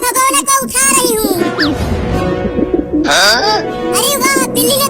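Soft pigeon coos and bird calls sound close by, mixed with lively voices talking over them.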